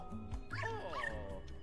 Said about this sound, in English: Ooh, doggy!